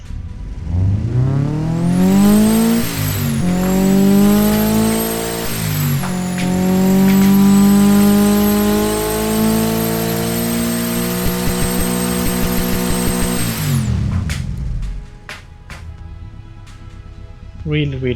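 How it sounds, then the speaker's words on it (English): A boxer four-cylinder engine in the Automation video game revs hard and loud, climbing and holding a high-pitched scream for several seconds, dipping once, then cutting off into quiet idle with faint clicks. "at high RPM it screams really hard"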